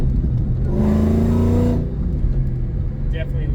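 A 2003–04 Ford Mustang Cobra drops a gear through a Bassani catback fitted with Borla Stinger mufflers, heard from inside the car: a loud, rising exhaust blat that swells for about a second, then settles back into a steady deep rumble.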